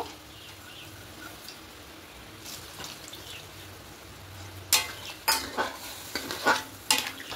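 Coconut milk and plain milk being stirred into vegetables in a pan for dudh shukto, starting as a soft, quiet simmer, then a series of sharper scraping strokes toward the end.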